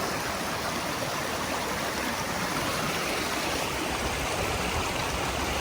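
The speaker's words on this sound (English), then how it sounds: "look at the river" A boisterous Scottish river after rain, rushing in a dense, constant broadband roar that is close and loud with no break.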